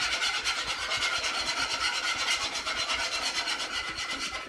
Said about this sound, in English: I'm using a metal whisk in a Teflon pan.